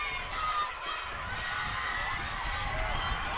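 A big crowd roars at Alumni Field during overtime of a boys' high school state championship soccer game, a sustained, loud wall of cheering and shouting that never lets up.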